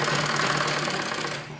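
A sewing machine runs steadily, stitching along the folded hem edge of a lined palazzo trouser, a close, continuous rapid mechanical chatter with no talk.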